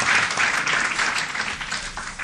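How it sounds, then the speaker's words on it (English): A city council chamber audience gives a big round of applause for a group of young men, dense sustained clapping at close to moderate distance, fading a little toward the end. "Give these young men a big round of applause."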